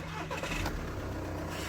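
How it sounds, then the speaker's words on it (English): Volkswagen Passat engine starting up close, a brief cranking burst that catches into a steady low idle rumble, heard during a side mirror replacement. "Let's start the car"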